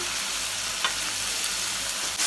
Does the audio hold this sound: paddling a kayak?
no